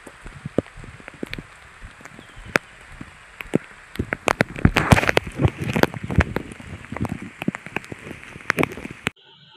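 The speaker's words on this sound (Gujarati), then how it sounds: "અત્યારે પાછો સાંજના 6 વાગ્યા એવો પાછો વધ્યો વરસાદ" Heavy evening rain falls in a village, a dense steady patter with sharp drops striking nearby surfaces, swelling louder midway before stopping abruptly.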